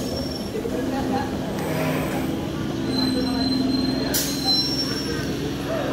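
A Howrah–Bandel local train pulls into Hooghly railway station with a loud continuous rumble and grinding wheels, a sharp metallic screech near the end, and a station hubbub behind it.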